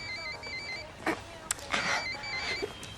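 A telephone rings in an animated series, steady repeated electronic ring tones over background noise, fairly faint and alone.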